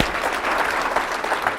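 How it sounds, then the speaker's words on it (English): A crowd at a mental wellness expo applauds a retired Green Beret, dense, loud clapping that holds steady for the whole short stretch with no voices on top. "Give him a round of applause."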